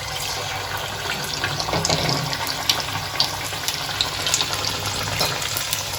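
Sago luchi flatbreads frying in hot oil, a steady broadband sizzle and bubbling with scattered crackles and pops, loud and close, running continuously without any talk.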